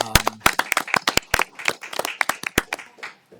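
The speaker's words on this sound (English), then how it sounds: "That deserves a round of applause." Audience clapping at a mayor and council meeting, a burst of sharp, closely spaced hand claps that thins out and fades over about three seconds.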